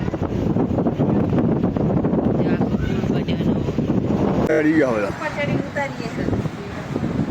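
Strong wind blowing by the sea at Dwarka, a steady loud rush buffeting the microphone throughout, with people talking over it.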